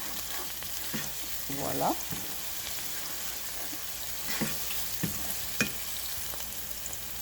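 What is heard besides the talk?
onions being stirred while frying in a pan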